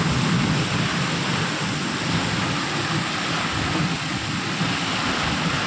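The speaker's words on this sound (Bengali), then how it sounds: "একে বলে কালবৈশাখী ঝড়" Kalbaishakhi thunderstorm pouring down, with steady heavy rain and rumbling thunder filling the air continuously and loudly around a halted Scorpio vehicle on a road.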